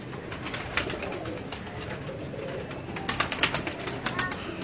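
Rampuri pigeons coo softly and repeatedly nearby over a steady background hiss, with a few sharper flutters and shuffles toward the end.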